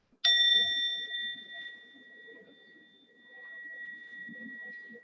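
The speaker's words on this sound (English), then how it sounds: "I'm gonna ring the little bell and we're gonna get everybody back here." Small hand bell struck once, a clear bright ding that rings out and slowly decays over several seconds, with faint room noise beneath.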